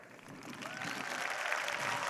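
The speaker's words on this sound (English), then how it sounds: "I want to give a big round of applause to our veterans here" A keynote crowd applauds veteran attendees, a rising wash of many hands clapping in a large hall that grows steadily fuller and louder.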